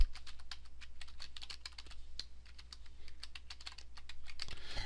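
Typing a password on a computer keyboard at a Salesforce login page, a quick run of light, irregular key clicks that goes on steadily throughout and sits over a low, steady hum, with no one speaking.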